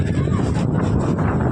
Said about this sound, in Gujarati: પવન એ કારા ગજબનો છે